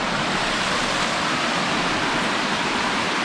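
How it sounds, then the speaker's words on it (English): A constant broadband rush of a mountain creek flowing, steady and close, with no voices or other sounds over it, in the Great Smoky Mountains. "Ah, the familiarity of the creek."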